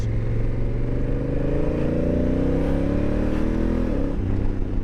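A Honda Africa Twin motorcycle engine pulls hard and loud on a road ride, its steady low drone rising in pitch as it accelerates through a gear, then dropping briefly near the end.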